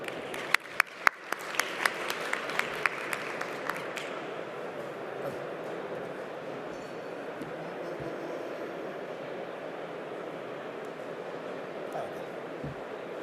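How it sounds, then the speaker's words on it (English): A conference audience applauds a speaker at a session on Korea's wind power industry: a few loud, close individual claps at the start, then sustained, even clapping from the room that continues steadily to the end. "Please give him a big round of applause."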